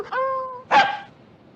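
A man imitates a yelping dog with a can tied to its tail: a sustained whining yelp, then a sharp higher yip-like cry, both vocal animal mimicry in a 1956 film scene.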